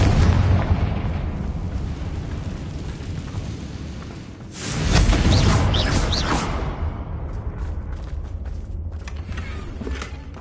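Confringo blasting spell from a Harry Potter video game erupts in a sudden, loud, booming explosion midway through, its roar swelling over steady game ambience and then slowly fading.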